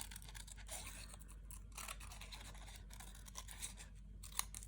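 Scissors snip through paper to cut out an egg shape, with faint, close rustling cuts at low volume over quiet room noise.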